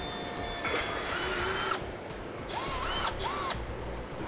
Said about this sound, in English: Now we're going to start with a smaller drill bit. We want to get our pilot holes drilled here.